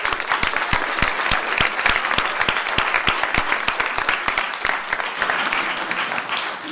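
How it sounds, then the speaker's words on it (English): A room of people applauding students from J. Graham Brown School at a Louisville Metro Council recognition, with steady, dense clapping and a few sharp individual claps standing out, sustained throughout at fairly even loudness. "receive a round of applause as well"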